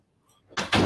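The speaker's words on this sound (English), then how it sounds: "let me shut my office door quick because I'm hearing noise" An office door pushed shut, a soft approach followed by two firm thuds close by, the second landing hard and lingering briefly.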